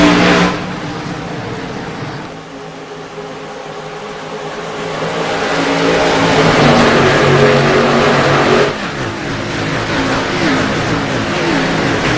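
Simulated eNASCAR Coca-Cola iRacing Series stock cars racing at New Hampshire Motor Speedway, a sustained engine drone that swells and fades as the pack passes, rising in intensity midway before settling, with no voices.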